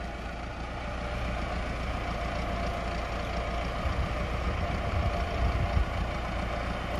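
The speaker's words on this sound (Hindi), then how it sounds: "लो भी मित्रो दूसरी पुली ते भी आ गया ट्रैक्टर।" A Massey Ferguson 460 4x4 tractor hauling a heavy trolley idles after arriving, a steady low diesel rumble that runs continuously and fairly near, with no talk over it.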